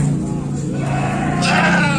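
Goat bleats at the Kaliboto livestock market, a few wavering calls rising over a steady crowd murmur, with a louder, brighter cry near the end.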